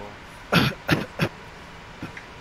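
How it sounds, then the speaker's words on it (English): A player character coughs in the survival game DayZ, three sharp, close coughs in quick succession followed by a faint throat-clearing rasp, with no talk over them. "Now for some reason I have a cough,"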